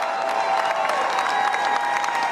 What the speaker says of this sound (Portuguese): E o público aplaude efusivamente